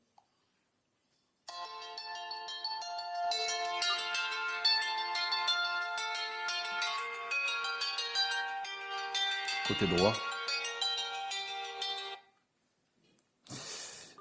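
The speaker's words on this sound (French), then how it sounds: "Le son notification, sonnerie du téléphone." Ringtone of a ZTE Blade A610 Plus phone, a bright melodic tune playing steadily for about ten seconds, with a brief spoken word over it and a short burst of sound after it stops.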